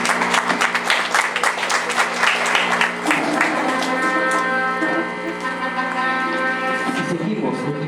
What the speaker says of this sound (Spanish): Fuerte los aplausos en esta mañana para la pareja.